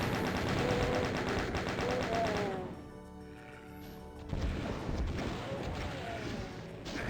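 Repeated rapid gunfire and crashing impacts from the Doom map Eviternity II, loud and dense at first, dropping briefly, then returning to sustained shooting with game sounds layered over it.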